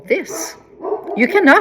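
A dog barks and yips in a home while a person keeps talking over it, the barks mixing with the voice throughout.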